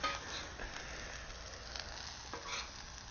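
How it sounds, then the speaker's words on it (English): Butter and Parmesan cheese cooking onto sourdough bread on a backyard BBQ grill give a steady, soft sizzle and crackle, quiet and continuous for a few seconds with no talking. "So this is just the butter and the Parmesan cheese that's basically cooked onto the surface of the bread then?"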